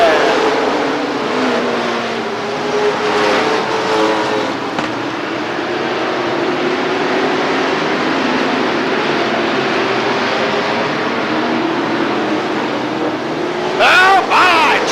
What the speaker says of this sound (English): Out of 4 they come, green flag, and we're racing.